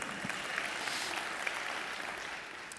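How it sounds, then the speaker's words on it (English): An audience applauds together at a presentation, a dense steady clapping held at even loudness for a few seconds with no speech over it. "Let's all give her a round of applause."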